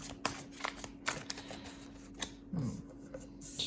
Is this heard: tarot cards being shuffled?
yes